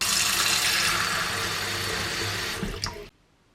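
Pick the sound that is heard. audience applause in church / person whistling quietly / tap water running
tap water running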